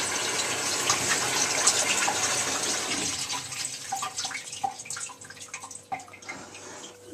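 Water gushes steadily into a washing machine drum, loud and continuous at first, then thinning into trickles and drips toward the end.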